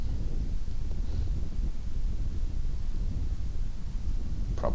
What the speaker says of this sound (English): We have wind.